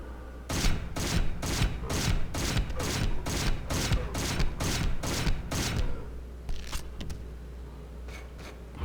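Rapid gunfire in the video game Hunter: The Reckoning, set in the sewers: about a dozen loud, evenly spaced shots in a steady rhythm, then a pause and a few scattered fainter bursts.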